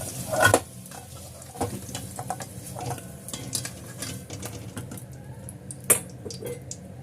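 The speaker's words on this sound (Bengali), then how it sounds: "আলুগুলো আমি লাল লাল করে ভেজে নিয়েছি।" Potatoes fried in oil in a wok, with a steady soft sizzle broken by scraping and clinking of a spatula against metal, a louder clatter at the start and another near the end.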